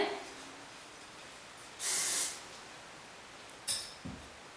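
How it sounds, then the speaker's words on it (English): A single sharp hairspray burst of about half a second, followed later by a brief second hiss and a soft breath, in a quiet room. "I'm going to spray again."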